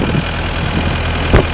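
A 2008 Bobcat S300 skid steer engine idling steadily up close, a loud continuous low rumble with a brief clunk near the end and no talk.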